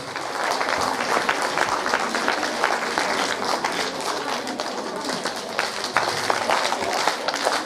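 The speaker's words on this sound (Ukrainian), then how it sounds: "Ваші бурхливі оплески цирк молодість" Loud, dense applause from a circus studio audience fills the whole stretch, steady and close with bright scattered claps and no talk over it.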